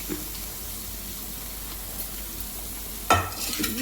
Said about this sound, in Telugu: తాలింపు అంతా కదిలేటట్టుగా కలిసేటట్టుగా ఇంకా తిప్పేయాలి